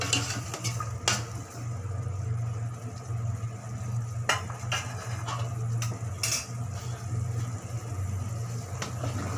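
Beef stirred into sizzling fried spice paste for an Eid-style Bengali beef curry, with a steady low hiss and repeated clinks and scrapes of a spoon against the pot, close and continuous.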